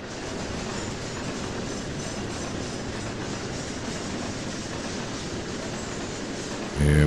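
A train rolls past at close range with a steady, loud rumble and rhythmic clickety-clack of wheels on rail, holding level throughout before a brief louder burst at the very end.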